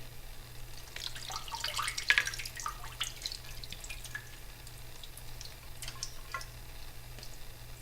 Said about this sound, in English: I'm going to strain out the watermelon